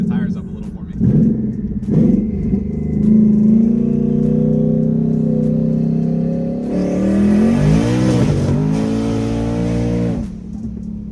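A 1000hp drag car accelerates hard on a street from second gear, its engine roaring loudly and climbing in pitch as the tires break loose and spin, with a second harsh rising surge near the end before it fades.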